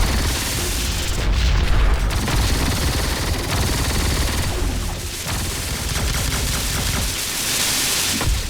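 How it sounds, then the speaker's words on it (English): Pulse cannons fire in the space strategy game Siege of Centauri, a dense, loud barrage of rapid booming blasts and rattling gunfire that holds steady throughout with no voices. "those pulse cannons are a lot more powerful"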